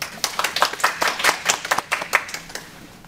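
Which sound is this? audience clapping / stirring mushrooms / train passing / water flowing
audience clapping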